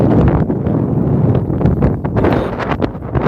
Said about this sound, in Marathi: आता वारा सुटलेला आहे आपण थेट महाराणावरती आहे त्यामुळे थोडा आवाजात ही वारा ऐकू येत